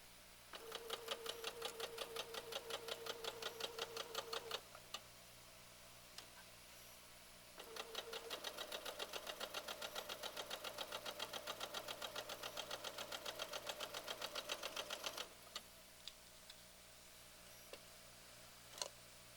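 A sewing machine stitching fabric for a face mask, running in two long steady stretches of rapid even needle ticks with a motor hum, separated by a short pause, fairly close and with no talking.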